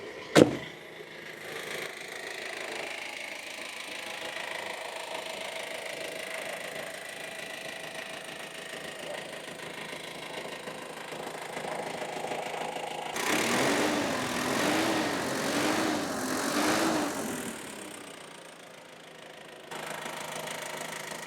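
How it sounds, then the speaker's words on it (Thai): A Ford Ranger 2.5 XLT 4x4 pickup's diesel engine idles at close range, a smooth continuous hum with a louder, rougher stretch in the middle before settling again. "ไปลองฟังเสียงเครื่องยนต์กัน"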